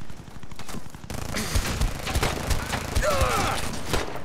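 Rapid video-game gunfire crackles through a busy shooter match, bursts of shots repeating steadily across the whole stretch amid mechanical clatter and game effects.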